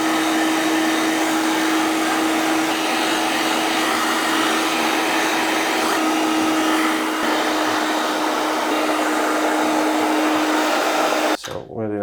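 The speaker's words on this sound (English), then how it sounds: "if you do use a hairdryer, it's got to be a low speed and a low heat" A hair dryer on low speed and low heat blows steadily at close range with a constant whine and rushing air, then cuts off abruptly near the end.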